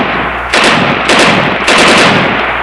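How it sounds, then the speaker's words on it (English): Sustained automatic gunfire mixed with fireworks, a loud continuous rattle of rapid shots in three surging bursts with no pauses, dense and close. "fireworks mixed with the sound of gunfire"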